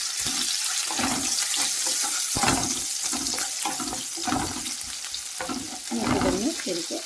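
Ginger sizzles with salt in a hot pan, a continuous loud frying hiss broken by repeated scraping stirs at an uneven rhythm, close up and with no talking.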